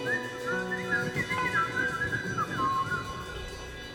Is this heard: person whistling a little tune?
yes